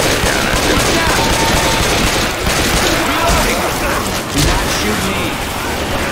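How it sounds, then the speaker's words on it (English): Continuous heavy gunfire in the zombie shooter Left 4 Dead 2, a loud, dense barrage of rapid shots that goes on without pause amid game chaos. "I'm not shooting this by accident, sir."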